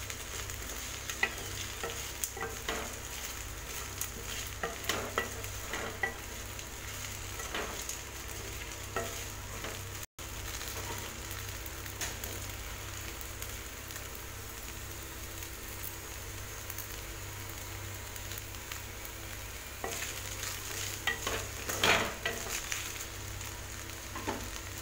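Okra (ladies finger) fry sizzles steadily in a pan for nearly 25 seconds while a spatula stirs and scrapes it in irregular strokes. The hiss stays close and continuous, with no talking.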